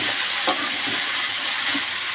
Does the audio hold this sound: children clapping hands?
no